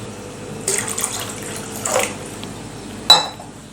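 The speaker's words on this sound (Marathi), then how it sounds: "यामध्ये मी आणखी थोडंसं पाणी घालणार आहे" Water pours into a pot of sambar in a soft, splashy stream, then a sharp metallic clink of a vessel rings out near the end.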